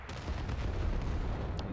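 A single heavy cannon blast from the M12 self-propelled artillery gun in World of Tanks, a loud booming report with a rumbling tail that fills the whole short moment, with no talking.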